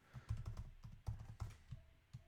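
Quiet typing on a German-layout Mac keyboard, a close, irregular patter of soft key clicks in short bursts with brief pauses.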